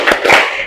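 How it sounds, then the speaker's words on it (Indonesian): A classroom group of students standing and clapping a short rhythmic cheer, a few quick loud claps close by with a fading tail. "Oke, tepuk tangan."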